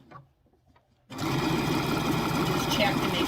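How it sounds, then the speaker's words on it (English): A sewing machine stitches a quarter-inch seam with a back stitch on a Valentine gnome craft kit, starting abruptly after a quiet moment and then running steadily, loud and close, with a fast even whir. "I'm just going to take about 1/4 of an inch seam, and I'm going to back stitch that"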